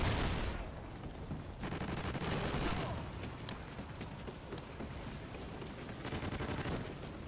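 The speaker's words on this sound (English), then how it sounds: "Two people are shooting at me." Rapid bursts of video game gunfire in a free-for-all shooter match, with dense overlapping shots at close range and a louder flurry in the first few seconds and again near the end.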